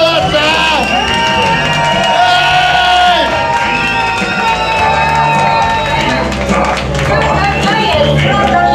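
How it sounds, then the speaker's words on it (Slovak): A large audience at a Prievidza documentary premiere about Ladislav Meliško applauds, cheers and whoops loudly and steadily for close to nine seconds, with music or voices blended into the crowd noise. "Poprosím jeden obrovský, gigantický potlesk pre Laca!"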